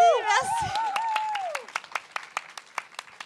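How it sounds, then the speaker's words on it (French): An audience claps to welcome a performer onto a podcast show stage, with scattered sharp claps after a short burst of sung or shouted voice and music at the start. "Accueillez, s'il vous plaît, avec un tonnerre d'applaudissements"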